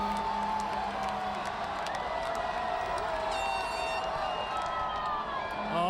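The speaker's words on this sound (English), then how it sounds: "The crowd reaching another level for Brad Marchand." A dense parade crowd roars and cheers for Brad Marchand at the Boston Bruins 2011 Stanley Cup victory parade, a sustained loud wash of voices and whoops with scattered whistles, steady throughout.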